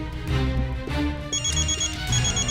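An electronic telephone ring repeats in short bursts over steady music playing in the background.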